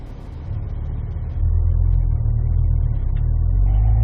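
A Cadillac V-Performance car begins rolling on a race track, its engine rumbling low and growing louder and heavier as it pulls away, close and steady with no talking.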